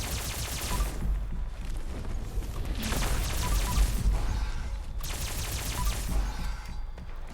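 Alien Blaster energy weapon firing at Scorchbeasts in Fallout 76, rapid bursts of crackling shots in three waves over a dense rumbling game backdrop, moderately loud with no talking.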